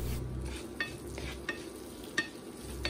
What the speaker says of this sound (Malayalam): ലോ ഫ്ലെയിമിലാക്കിയിട്ട് നന്നായിട്ടൊന്ന് വഴറ്റിയെടുക്കാം